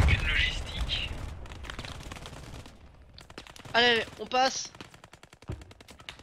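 Bursts of automatic gunfire strike an armored vehicle in the World War II shooter Squad 44, with sharp impacts and ringing, tonal hits mixed among them, while voices talk over the action.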